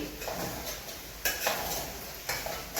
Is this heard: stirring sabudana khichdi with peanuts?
yes